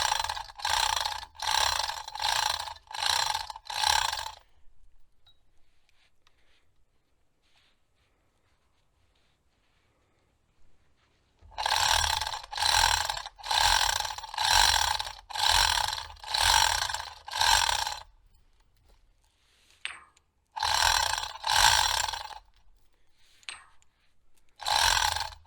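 A ratchet strap is cranked tight while tying down a load during a well pump repair, in three bursts of rapid, even clicking separated by quiet pauses, loud and close with no talking.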